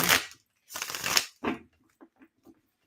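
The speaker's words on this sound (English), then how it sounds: "Let me shuffle one more time." A deck of playing cards being shuffled, two quick riffling bursts followed by a few soft taps as the deck is squared, close and fairly quiet, no talking.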